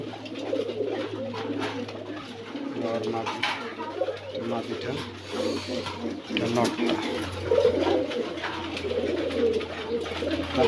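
An Afsan grizzle racer male pigeon coos in low, rolling bursts across the whole stretch, close by, under someone talking.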